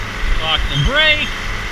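A tractor engine idles steadily while an International 51 silage wagon of chopped corn is unloaded, a low, even rumble under close speech.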